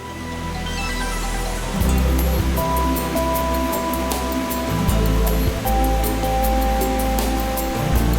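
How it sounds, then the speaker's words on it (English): Shoshone Falls on the Snake River, its water spilling over the edge in several steps into a broad semicircular basalt pool, makes a steady, dense rushing roar throughout, with tonal background music layered on top. "The water flows for 300 meters over the edge and in several steps into a large semicircular basalt stone pool"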